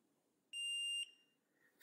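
A Kwikset SmartCode 910 smart lock gives a single steady reset beep, high and clear, lasting about half a second in an otherwise quiet room.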